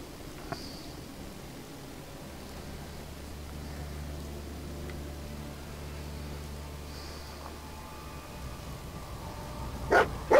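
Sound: dog barking

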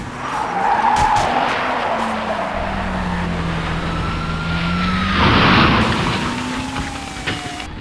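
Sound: car speeding away frantically, tires skidding, recreation effect

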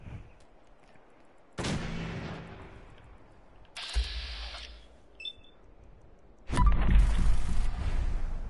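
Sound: baseball grenade explosion in Fallout 4 video game

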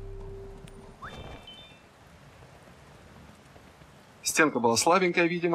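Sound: rain in the video game Kingdom

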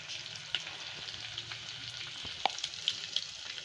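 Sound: spices frying in oil for tempering

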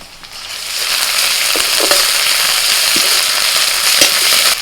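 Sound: ginger-garlic paste frying with onions

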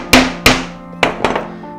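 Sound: hammering a nail

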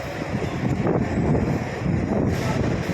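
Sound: strong wind blowing outdoors

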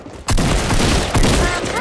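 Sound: gunfire in the video game Fortnite

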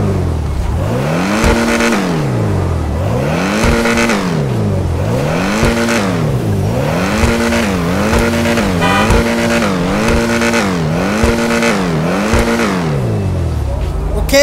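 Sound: Alfa Romeo car engine in video game GTA V Online

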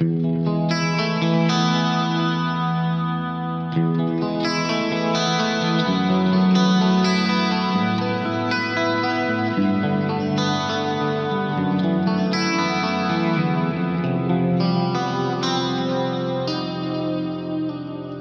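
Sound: clean electric guitar with multi-tap delay, reverb

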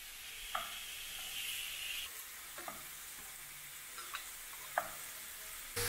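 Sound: shrimp and mushrooms frying in olive oil in a pan

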